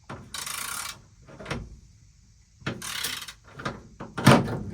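Ratcheting wrench clicks and metallic scrapes while tightening a bolt on an old Henry J drag car parked since 1977, coming in several bursts separated by short pauses.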